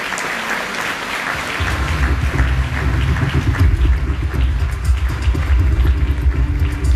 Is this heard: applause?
yes